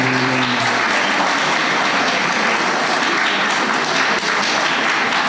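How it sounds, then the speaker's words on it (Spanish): A church congregation applauds for the children in a Spanish-language service; continuous dense clapping fills the room, loud and sustained, with a brief voice at the start. "¿Quieren aplaudir para los niños? Ya, unas palmitas para los"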